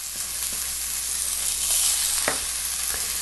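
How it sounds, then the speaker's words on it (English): Kale stems and garlic sizzling in grapeseed oil in a pan: a steady, loud, close hiss with a few soft stirring clicks and no voices. "all these stems are going to go into this garlic with grapeseed oil"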